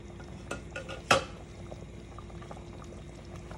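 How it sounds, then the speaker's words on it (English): Food is stirred in a pressure cooker, a soft bubbling simmer under a couple of faint scrapes and one sharp metal clink of a utensil against the pot, quiet and close, no voices. "stirring it to make sure nothing is stuck to the bottom"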